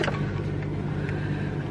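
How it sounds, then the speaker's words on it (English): A car's engine idling steadily just after starting, a continuous low hum filling the whole moment with no talk over it. "So guys, car started and I'm ready to go."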